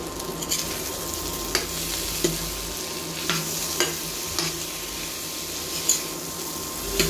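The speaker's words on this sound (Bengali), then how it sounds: "ভালোভাবে ফ্রাই করে মাংস কষিয়ে নিলে কিন্তু খুব সুস্বাদু হয়" Meat frying in a little oil while being stirred, a continuous close sizzle punctuated by repeated spatula clicks and scrapes against the pan, with no voices.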